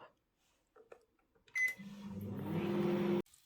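A microwave oven reheating pizza: a few soft clicks and knocks as the door shuts and buttons are pressed, a short beep, then a steady, close electric hum that runs for over a second before stopping abruptly.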